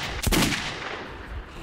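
A single sharp gunshot in Metro 2033 cracks out loudly near the start, then fades into a low rumbling game ambience.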